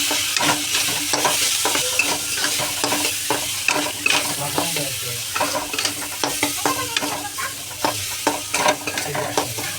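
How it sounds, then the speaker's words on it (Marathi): Chopped vegetables for veg noodle momos are sautéed in a hot pan, with a loud, continuous sizzle broken by repeated scraping stirs of a spatula close by and no voices. "आता हे पण आपण परतून घेऊया."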